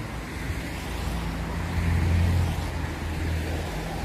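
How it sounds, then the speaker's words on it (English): Cars pass by on a nearby road during a walk, a steady broadband roadway rush with low engine rumble swelling at mid-clip, no one talking. "Just a bunch of cars"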